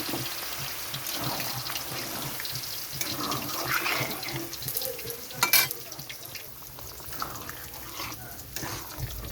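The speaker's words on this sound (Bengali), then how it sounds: "এখানে আমি দিয়ে দিচ্ছি জল পরিমাণ মতো।" Water splashes and gurgles as it is poured into a pan of paneer vegetable curry, with soft sizzling and stirring noises in a kitchen.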